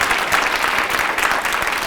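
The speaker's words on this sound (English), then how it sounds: "let's give Nick and Dr. Mihalovic a big round of applause" Loud, dense clapping from a ceremony audience honoring civic leaders at a Harvest for Hunger recognition event, continuous and close throughout the brief stretch.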